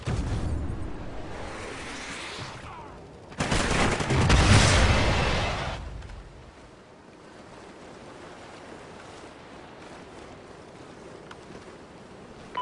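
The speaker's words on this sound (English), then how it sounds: "Enemy rocket strike incoming!" Rocket strike barrage in Call of Duty Ghosts gameplay: a broad rumbling burst of explosions swells loudly over a few seconds amid ongoing battlefield noise, then settles into a steady low wash of distant combat.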